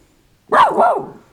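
A small dog, once bitten by a rattlesnake, lets out two quick close barks in succession, loud and alone with no talking.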